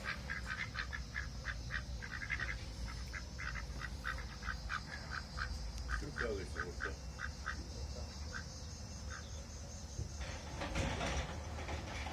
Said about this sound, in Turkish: Evet ördekler var burada görüyorsunuz